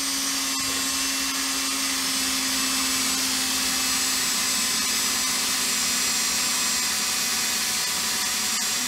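A battery-powered tool runs on a dying battery while a Simson moped cylinder is being repaired after a piston seizure, giving a steady whining drone with a constant hum and broadband hiss, close and unbroken for the whole stretch, with no talk.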